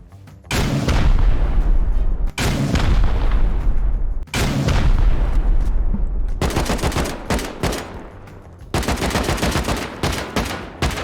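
A base raid in the video game Rust brings a run of loud, close rocket explosions. Four or five heavy booming blasts follow one another, and the last ones break into rapid crackling bursts like gunfire. No one speaks over them.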